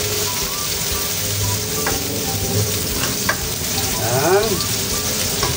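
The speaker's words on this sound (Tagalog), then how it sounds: "Gigisa na po natin yung ating luya." Ginger sautéing in hot oil in a pan for sinampalukan liempo, a loud, continuous close-up sizzle with scattered crackles and stirring scrapes, and a brief spoken word near the end.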